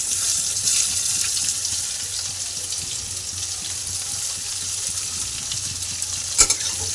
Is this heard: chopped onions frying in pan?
yes